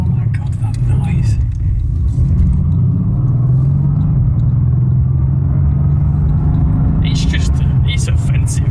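A Mercedes-AMG GT R engine rumbles loudly from inside the cabin while driving at low speed, a deep, steady drone that rises slightly in pitch, with someone speaking over it.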